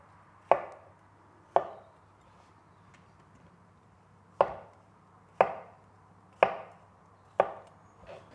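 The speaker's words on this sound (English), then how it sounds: "Half a kilo of brown button mushrooms that we're gonna slice." A knife slices brown button mushrooms on a board in six crisp, separate strokes, irregularly spaced, close and clear in a quiet kitchen.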